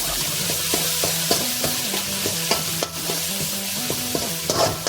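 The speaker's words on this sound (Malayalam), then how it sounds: "ലേശം മഞ്ഞപ്പൊടി ശേഷം ഒന്ന് ജസ്റ്റ് മിക്സ്" Spoon stirring turmeric powder into food frying in a pan, scraping strokes repeating over a constant sizzle, close and moderately loud with no voices.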